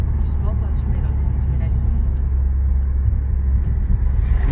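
A 2020 Ford Focus ST Line with an EcoBoost engine, switched into sport mode, gives a steady low engine rumble close by, with voices talking over it.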